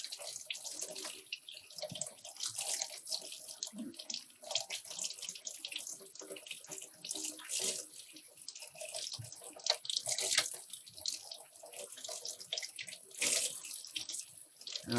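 Tap water running continuously while nitrocellulose cotton is rinsed by hand, a steady close splashing hiss with small shifts in the flow and no talking.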